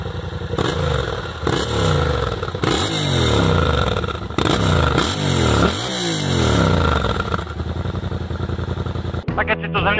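A Yamaha Ténéré 700 (2019) motorcycle engine rumbling at idle, then revved hard in a series of sharp rising and falling blips, loud and close, ending with a short pause.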